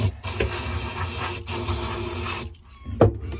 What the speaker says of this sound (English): I'm going to spray some of this down there